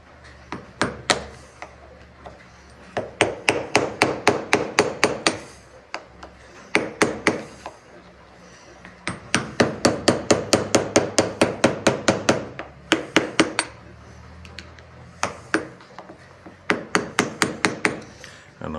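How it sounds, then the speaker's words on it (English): A little screwdriver is worked against a locking tab on a 50-year-old Kubota tractor, producing bursts of rapid, sharp metallic taps in repeated rhythmic runs with short pauses between them, close and fairly loud. "Let's go get a little screwdriver. We'll bend down this tab."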